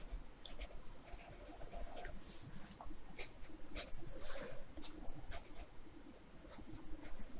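Pencil sketching a figure drawing on paper, soft scratchy strokes in irregular bursts, fairly quiet and close with no talking.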